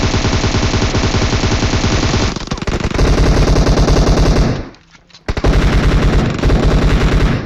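Rapid automatic gunfire during a team fight in PUBG Mobile, dense loud bursts of shots with a short break and a near-silent gap before firing resumes.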